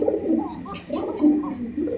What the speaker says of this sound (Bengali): দেখেন কীভাবে ডাকে 2 জোড়া কবুতর